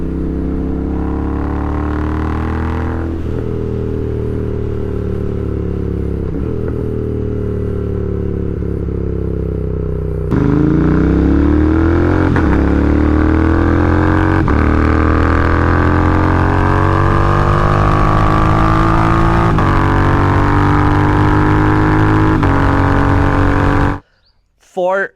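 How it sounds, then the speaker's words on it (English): A Royal Enfield Interceptor 650 with a Moto Corp 2x2 full exhaust system rumbles loudly and close by. Its deep, steady exhaust note rises through several revs and gear pulls before cutting off abruptly near the end. "I cannot tell you how good the sound of this motorcycle is."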